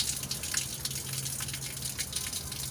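Tap water runs from a mosque ablution faucet fitted with a water-saving device, giving a steady hissing spray with no voices over it.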